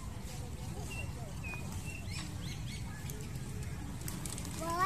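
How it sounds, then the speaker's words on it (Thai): A flock of birds takes off at Nong Prajak, with a burst of fluttering wingbeats and scattered chirps over a dense background murmur, while people talk nearby. "โอ้โหจิ๊บเยอะเลยครับ"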